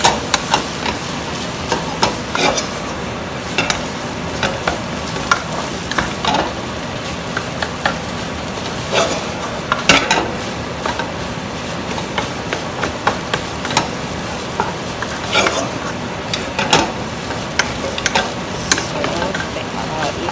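An egg cooks in a pan for Thai red curry fried rice with shrimp, giving a steady close sizzle broken by frequent sharp scraping and clattering strokes of a spatula against the pan.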